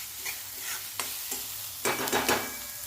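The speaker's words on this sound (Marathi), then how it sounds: "मिडियम टू लो गॅसवर हा मसाला भाजून घ्यायचा आपल्याला तेल सुटेपर्यंत" Onion, coconut and tomato masala paste roasting in oil over a medium-low gas flame, with a soft constant sizzle broken by a few spoon scrapes and a longer stirring burst toward the end.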